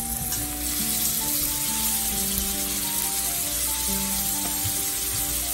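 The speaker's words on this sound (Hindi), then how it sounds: "इसको 5 मिनट तक हम भूनेंगे" Bell pepper and broccoli stir-fry in a pan for Chinese fried rice, giving a continuous close sizzle with soft stirring and faint steady background tones.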